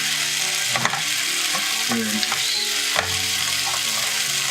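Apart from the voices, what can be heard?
potatoes sizzling in frying pan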